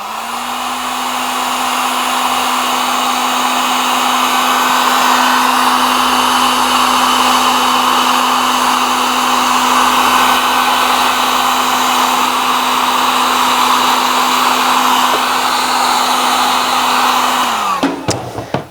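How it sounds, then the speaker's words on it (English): Heat gun shrinking heat shrink tubing onto wiring on a 1965 Chevrolet C10 pickup, a loud, steady close-up blowing whine with a constant hum that holds for about seventeen seconds, then winds down and stops, no talking. "let's see if we can get some heat shrink on that"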